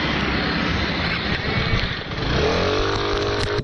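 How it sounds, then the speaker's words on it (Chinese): A motorcycle's throttle is revved hard as it speeds off from a roadside police stop. The engine gives a loud, continuous close-up roar that climbs in pitch as it accelerates. "竟然猛催油门，一路狂飙往前冲"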